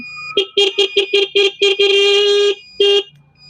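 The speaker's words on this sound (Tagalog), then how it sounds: "May busina na rin." A shrill electronic e-bike horn beeps several times in a fast stutter, then holds a longer blast, followed by one more short beep, loud and close.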